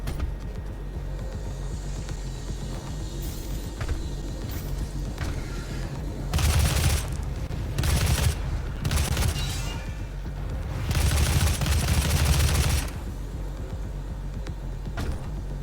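Missile lock-on launcher in Doom 2016 firing in two loud, sustained bursts of rapid blasts over a constant low game rumble, with quieter stretches between, no talking.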